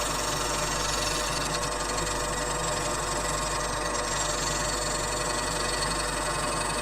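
A wood lathe spins a huge rotten bowl blank, giving a loud, continuous motor hum with a steady vibrating drone and no break throughout.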